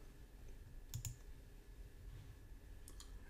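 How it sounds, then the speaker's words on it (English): A computer mouse clicks, two quick faint clicks near the start and another pair toward the end, over a quiet room hum. "Let me click that."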